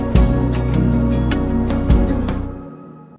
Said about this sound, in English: I have a hat to accent that. It sounds like this.